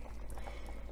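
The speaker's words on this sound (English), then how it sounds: "Okay, so you see that they're boiling." Pinto beans with ham hock boil in a pan, giving a steady, close bubbling and simmering hiss that runs unbroken for about a second, with no voices over it.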